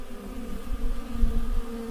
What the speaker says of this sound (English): Most of the bees are in this canyon